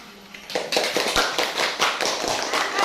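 Classroom applause breaks out as students clap for a poster on caring for body organs, a burst of scattered near hand claps building to a steady patter with light voices underneath.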